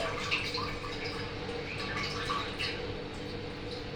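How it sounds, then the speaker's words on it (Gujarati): Water drips and trickles steadily as wet spinach leaves are squeezed out by hand, a close, soft patter with no talking. "સૌથી પહેલા પાલકને આવી રીતે નીચોવી લેવાની, એકદમ પાણી બધું કાઢી કાઢવાનું"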